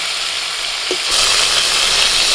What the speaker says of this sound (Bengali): তেলের মধ্যে ফোড়নে দিচ্ছি গোটা জিরে